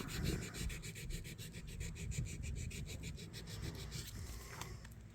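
Rhythmic, scratchy rasping of sandpaper rubbed back and forth over the rusty metal blade of a Camco 229 electrician's knife, steady strokes repeating quickly and close up with no talking.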